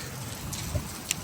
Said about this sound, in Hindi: ठंडी बारिश है, ठंडी